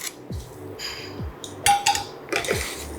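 Carrot and chilies being stirred together for a spicy pickle, with a few clinks and scrapes of a spoon against a metal or ceramic bowl, close and intermittent, with no talking.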